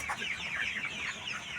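Chicks and chickens from Medan cluck softly in a poultry pen, some of them sick with gumboro disease, in a faint, busy chatter of overlapping peeps and clucks with no talk.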